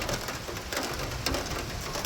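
Rainwater drips and patters steadily through a leaking house roof during rain, a constant dense hiss with faint scattered drops, no voices.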